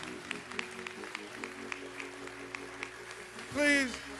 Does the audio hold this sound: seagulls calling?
no